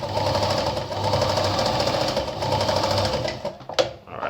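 An Anker RZ sewing machine with a treadle, set to maximum stitch length, runs a straight stitch in a loud, steady, continuous whir with a rhythmic needle chatter. It slows and stops near the end.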